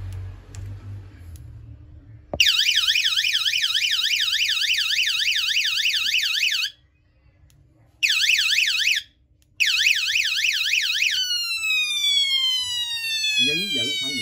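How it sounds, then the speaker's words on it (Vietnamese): A multifunction camping flashlight's built-in siren wails loudly and steadily in a rapid warbling tone, cutting out briefly twice before resuming, then shifting to a sweeping rising whoop near the end. "Ngoài ra ở bên đây nó còn có một còi hú nữa."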